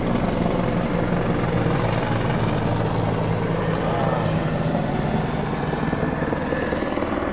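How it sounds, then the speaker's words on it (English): Military helicopters pass overhead with a loud, steady rotor drone and engine roar that fills the whole stretch without letting up. "a lot of choppers in there."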